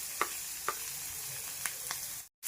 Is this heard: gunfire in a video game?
no